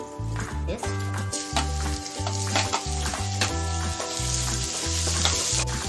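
Peanuts roast in a hot pan for a spicy brinjal bharit, giving a continuous sizzle and crackle that sits partly beneath louder, rhythmic background music.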